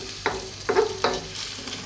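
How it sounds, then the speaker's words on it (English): Sausage pasta sauce cooks in a pan while a utensil stirs it in several distinct scraping strokes, each over a low, steady sizzle, with no talking. "Give it a stir every now and then"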